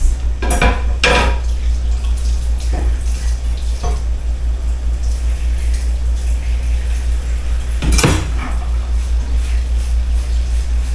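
An item clatters into a home kitchen sink holding a little bleach, striking with a few sharp knocks and one louder clunk near the end. The knocks ring over a steady low hum, with no talking.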